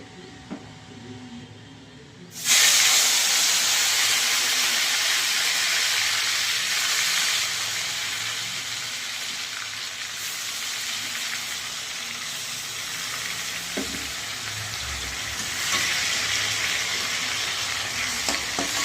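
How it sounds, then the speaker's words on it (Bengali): Ground spice paste hits hot oil and flares into a loud, steady sizzle after a quieter start, then keeps hissing close by for a long stretch with small bumps of stirring, and no one speaks. "এবার আমি এই মিক্সিতে যে মশলাগুলো করে রেখেছিলাম, সেই মশলাগুলো এখন আমি তেলে ভাজবো।"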